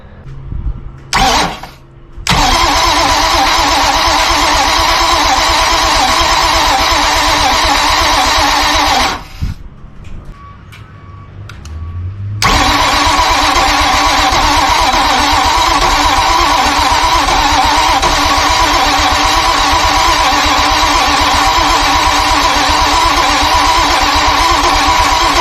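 Hurricane-damaged Grady White 282 boat engine cranking over without catching, a loud, steady churning drone after a short burst at the start, with a brief drop-off partway through before the cranking resumes and runs on.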